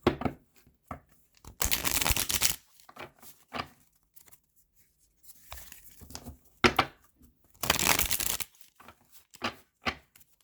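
A tarot deck is cut and riffle-shuffled at close range, with two long rustling, flapping shuffle bursts set between soft taps and shuffling card handling in an otherwise quiet room.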